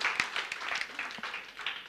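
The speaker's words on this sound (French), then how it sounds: "tu peux applaudir, tu peux applaudir" An audience applauding, a brief, fairly faint patter of many hands clapping throughout, with no speech over it.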